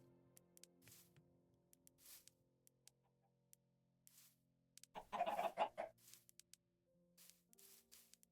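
Soft clucking from Minecraft chickens, with a louder burst of cackling midway, plus scattered light taps and a low background hum; fairly quiet overall.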